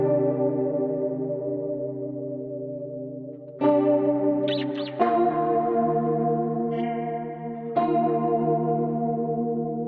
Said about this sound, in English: I then recorded some chords with my bass 6. I used a mild amount of gain